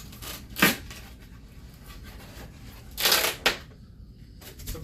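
Packaging around a Prime 1 Deadshot 1/3 scale statue is opened, with short rustling and tearing bursts of wrapping material. Two louder crinkly bursts stand out against a quiet background.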